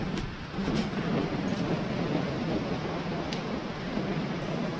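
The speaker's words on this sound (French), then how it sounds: "Et il pleut." Steady broadband hiss of rain falling continuously, fairly close, with a low rumble underneath and no voices.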